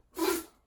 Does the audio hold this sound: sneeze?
yes